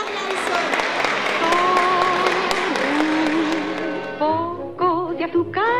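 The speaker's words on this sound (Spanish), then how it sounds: "¡Un aplauso!" Audience applause at a school end-of-year festival, steady massed clapping under a sustained sung melody with music continuing throughout.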